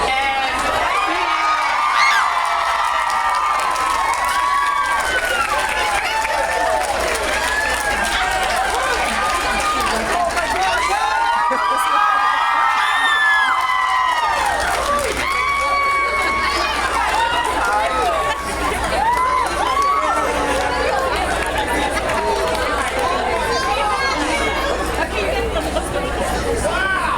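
A large audience at a book festival reading cheers, shouts and chatters loudly and continuously, with children's high voices and bursts of whooping over a dense crowd roar throughout.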